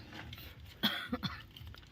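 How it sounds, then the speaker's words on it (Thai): A sick person gives one hoarse cough, followed by two quicker, weaker coughs, close by in a quiet room. "ไออูดกันเลยพี่น้อง"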